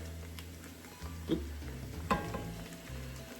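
Garlic fries in a pan for arroz con pollo, a soft steady sizzle with a few stirring scrapes and taps, fairly quiet and close, with no talking.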